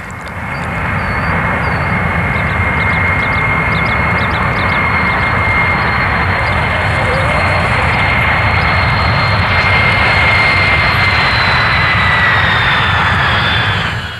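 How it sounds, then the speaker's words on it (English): A Boeing 747 carrying the Space Shuttle Orbiter flies in, producing a loud, sustained jet engine roar that swells and holds steady throughout, with faint high bird calls over it. "The Space Shuttle Orbiter is flown in from California atop a Boeing 747."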